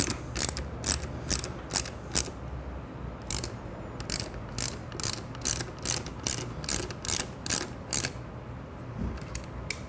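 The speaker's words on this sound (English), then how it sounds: "Okay, tighten that one up." A ratchet wrench tightens a bolt while a turn signal kit is installed on a Ducati Scrambler motorcycle, giving quick repeated clicking strokes in steady bursts, close and clear with no talk.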